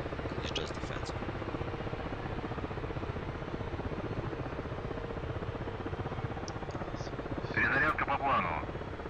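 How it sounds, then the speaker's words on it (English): An Mi-8 helicopter starting up in a video game, a continuous low rotor and engine drone that holds steady, with brief electronic beeps and people talking over it. "We're starting up the MI-8"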